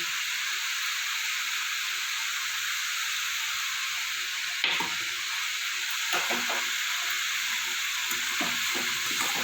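Cabbage with spices being stirred in a frying pan, a steady hiss of frying under soft scraping and tossing sounds that pick up in the second half.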